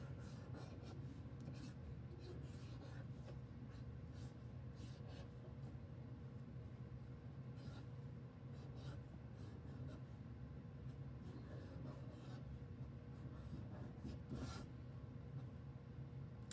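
A pen scratches steadily across paper as a chart is written out by hand, soft rubbing strokes repeating over a constant low room rumble, close and quiet, with no talking.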